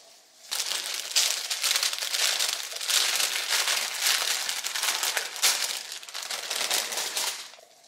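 Crisp paper crinkling and rustling from luxury gift packaging being unwrapped around a silk pajama set, continuous and close for several seconds, with no speech.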